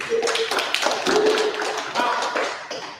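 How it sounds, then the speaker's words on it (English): Audience applause at a business excellence seminar: a steady round of many hands clapping, moderately loud and sustained for a few seconds, with faint voices mixed in. "can we give you a round of applause?"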